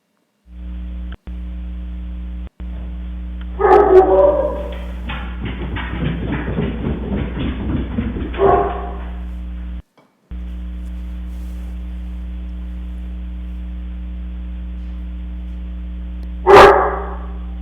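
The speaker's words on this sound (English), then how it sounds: "you can see that picked up one of my dogs barking at whatever" Dog barking picked up by a Samsung SmartCam Pro SNH-6410BN security camera, a few short bark bursts mid-distance over a constant electrical mains hum, with a single sharp bark later.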